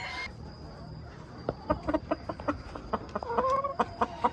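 Ornamental naked-neck hens cluck in a coop, a series of short, close, fairly soft clucks and calls with a thin steady insect-like whine in the background.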